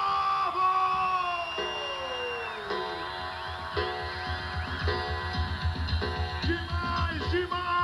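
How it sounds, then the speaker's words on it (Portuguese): Rodeo crowd at a show in Búzios, Brazil, cheering and shouting amid loud music with sliding tones and rhythmic thumps, voices swelling in bursts throughout. "Cadê as palmas? O grito do povo!"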